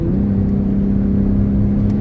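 A Ford Raptor pickup on 37-inch tires cruising at highway speed, a loud steady engine drone and road whir heard from inside the cab, alone with no talk.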